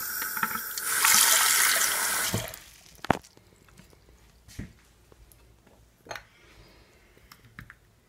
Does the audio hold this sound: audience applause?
no